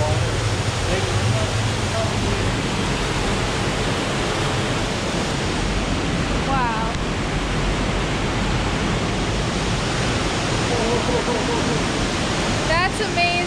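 Constant roaring rush of water filling Kadisha Grotto in Lebanon, loud and enveloping, with faint voices briefly audible beneath it.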